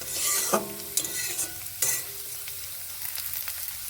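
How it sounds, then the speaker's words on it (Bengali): Moong dal lentils stirred and fried in hot oil, with a steady crackling sizzle broken by a few sharp spoon scrapes against the pan; close and continuous, no voices. "তেলেই এই ডালগুলোকে ভালো করে ভেজে দিচ্ছি"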